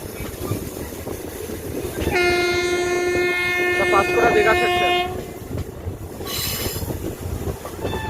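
15722 Paharia Express train on the Tamluk line toward Digha, a loud horn blast sustained for about three seconds over steady rumble of wheels on rails, with a squeal and brief clatter after.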